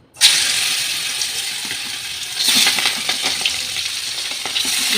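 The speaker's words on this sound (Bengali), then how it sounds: "এবার একে একে মাছগুলোকে ছেড়ে দিতে হবে" Pangas fish pieces are dropped one by one into hot oil over a low gas flame, setting off a sudden loud hiss that settles into steady, close sizzling and crackling, with a fresh surge as another piece goes in.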